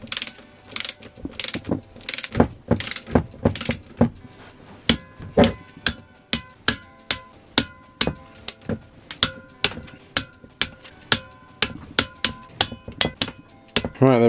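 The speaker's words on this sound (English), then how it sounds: "So I've got my torque wrench, my little 3/8 torque wrench, Sealy one, set to 30 newton meters." A small Sealey 3/8 torque wrench tightens the cylinder head bolts on a Mini Cooper. Its ratchet clicks sound close and sharp, first in quicker strokes and then as a long, evenly paced series of single clicks.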